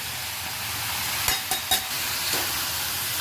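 Brinjal and garlic sauté in a hot pan, giving a steady close sizzling hiss broken by a few short clattering stirs near the middle.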